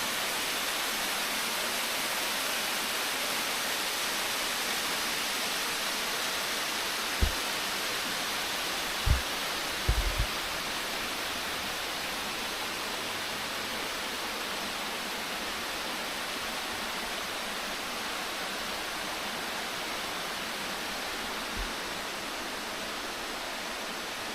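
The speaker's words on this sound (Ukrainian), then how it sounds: "водоспадик" Steady, even rush of falling water from a small waterfall close by in Gatineau Park, with a few brief low thumps partway through.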